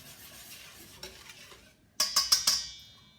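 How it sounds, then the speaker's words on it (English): A yeast mixture for cinnamon bun dough being whisked in a bowl: soft swishing at first, then four quick, bright metallic taps with a ringing tail, close by, with no voices. "So I'm just gonna whisk that to combine."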